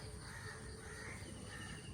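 A crow caws faintly in the distance near a pond on a trip in Kerala, set against a steady wash of outdoor background noise, with no talking.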